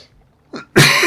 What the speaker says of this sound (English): I have a right tickly cough.